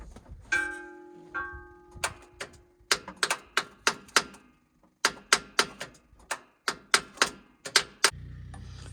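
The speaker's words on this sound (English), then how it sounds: "you use the tap on the solenoid, and sometimes that helps" Someone taps a metal tool on a tractor's starter solenoid while fixing a hay bale fork, producing a series of sharp, close metallic clicks and knocks in uneven bursts, with a brief ringing tone early on and no speech.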